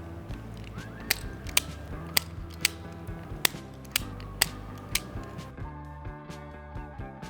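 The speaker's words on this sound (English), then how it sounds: "we'll start by stripping the insulation off the end of these power and ground wires." Insulation being stripped from the ends of power and ground wires during an 8-gang switch controller install: a quiet run of sharp, evenly spaced clicks and snaps from a hand tool, about ten in a row, close and alone with no talking.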